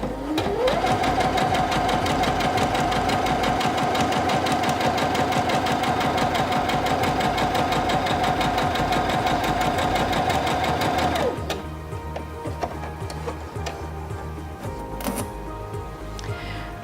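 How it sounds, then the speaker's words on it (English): A Singer Featherweight C240 sewing machine runs a test stitch through fabric, a loud, steady, fast mechanical whir and needle clatter that stops abruptly, leaving faint clicks and handling noises. "step on the foot control to start sewing"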